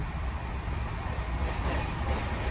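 Steady broadband rumble and rush of the fast-moving Mangala Express passenger train, running from Delhi to Kerala, heard from inside a sleeper-class coach, a continuous loud roar with no distinct clacks and no talking.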